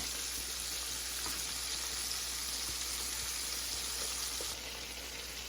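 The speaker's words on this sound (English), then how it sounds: "the chicken has been frying probably about 7 minutes now" Gentle, steady sizzle of chicken frying slowly in oil for twice-fried chicken, about seven minutes in, a soft continuous crackle with faint pops, no talking.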